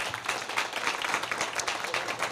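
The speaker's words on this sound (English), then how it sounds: "let's give them a huge round of applause" Audience applause at a luncheon: a room full of people clapping steadily for a couple of seconds, dense and even, moderately loud.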